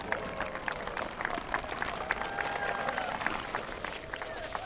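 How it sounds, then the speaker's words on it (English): Faint, distant crowd applause at the 2022 NAS Oceana air show as Navy parachutists descend toward touchdown, scattered clapping under an outdoor PA announcer's voice. "let's give them a round of applause as they approach their touchdown"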